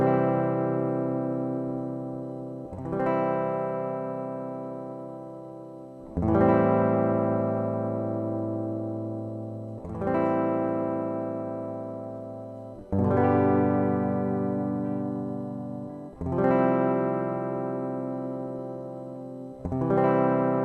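Clean electric guitar played alone in strummed chords, about six struck every three seconds or so, each left to decay with a reverb tail before the next.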